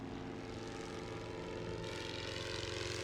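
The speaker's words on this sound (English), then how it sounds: "An enemy plane is in the air." An enemy propeller plane drones overhead in a World War I Western Front strategy game, its engine hum steady and moderately loud, swelling slightly toward the end, with no voices.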